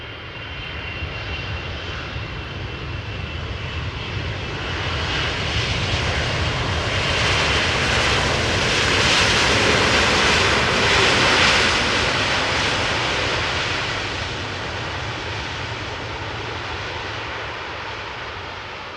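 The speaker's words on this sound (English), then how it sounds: "This was Air Canada, flight 808, the daily flight arriving from Toronto" An Air Canada Boeing 777-200LR arriving at Amsterdam Schiphol from Toronto, its engines building to a loud, steady broadband roar that swells mid-pass and then eases slightly, with no voices.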